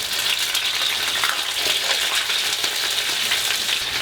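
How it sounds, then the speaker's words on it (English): Steady, crackling sizzle of steak frying in a hot pan, a dense hiss that holds evenly for several seconds with no voices. "Look at the sizzle around that."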